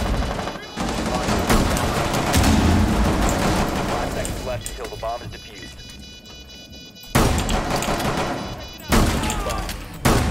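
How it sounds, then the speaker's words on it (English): Grenade blast and sustained gunfire in the Rainbow Six Siege video game, loud dense bursts of shooting that rumble on, then sudden loud cracks as firing resumes after brief pauses. "I threw a grenade in there, watch out."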